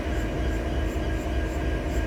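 An EMD 16-710-G3 diesel engine in an SD70 locomotive rumbles loudly and steadily, a dense, close, continuous drone with no talk.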